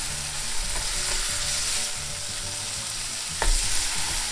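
Burger patties sizzle steadily in a hot pan with the mustard-coated side down, a dense, even crackle that stays close and constant, broken by a couple of brief clicks.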